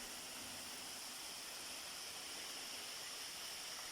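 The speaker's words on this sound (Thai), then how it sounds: "น้ำตกผาลมเย็น นะครับด้านล่าง" Pha Rom Yen waterfall in Uthai Thani roars as a steady, broad wash of falling water, unbroken and even throughout with no other sounds on top.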